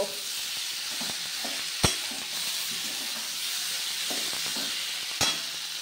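Soybean chunks and potato frying in spice paste in a pan, an even close sizzle with occasional soft stirring scrapes and two sharp clacks, no voices.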